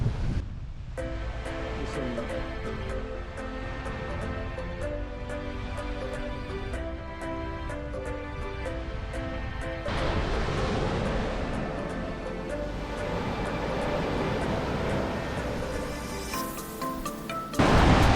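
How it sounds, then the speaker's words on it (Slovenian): Ocean surf and gusty wind on an exposed Bequia beach, a continuous loud roar of breaking waves with wind buffeting the microphone, swelling heavier about halfway through. "Te so odprte na ocean, zato so kar vetrovno, pa veliki valovi so, ampak so pa lepe, res."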